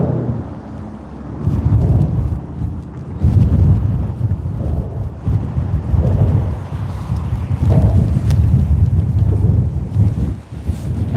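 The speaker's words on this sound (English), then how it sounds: "And it's definitely breezy." Wind buffets a microphone outdoors on a cold, breezy day of bass fishing, a steady low roar with gusting surges that rise and fall throughout, loud and close.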